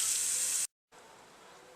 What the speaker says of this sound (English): Next, completely rinse with a low pressure spray.